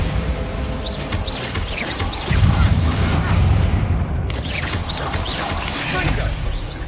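A Bombarda spell blast in Hogwarts Legacy bursts as a deep, rumbling boom that swells and lingers for a couple of seconds amid game ambience and bird chirps.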